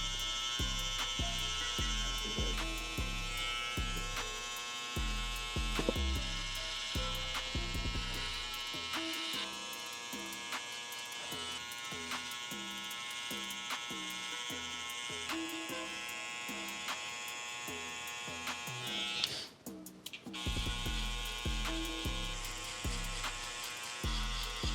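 An electric hair clipper cutting a skin fade buzzes steadily up close, its hum pulsing on and off in short bursts as it works, briefly cutting out near the end.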